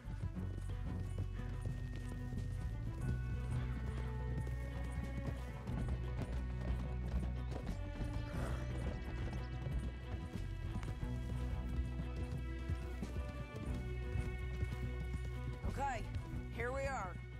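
Horses galloping in Red Dead Redemption 2: a steady drumming of hooves under game music and a man's spoken dialogue, with a whinny near the end.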